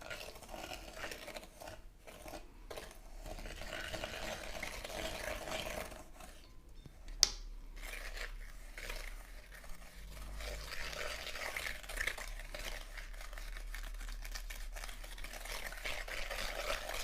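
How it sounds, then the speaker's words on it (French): Sugar and yogurt being stirred together in a bowl for a yogurt cake, a steady scraping and swishing that goes on for about seventeen seconds, close up and fairly quiet, with one brief sharp knock partway through. "on va commencer à remuer sucre et yaourt"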